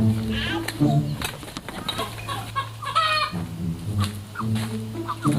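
Chickens cluck repeatedly nearby, with a rooster crowing, while people talk over the birds.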